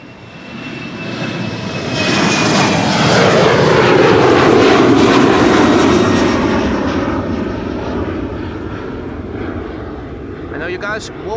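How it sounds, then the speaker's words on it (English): An Embraer jet in KLM blue livery passes at Amsterdam Schiphol Airport. Its loud engine roar swells over a few seconds, holds near, then slowly fades. "Embraers that you hardly ever see here at Schiphol Airport"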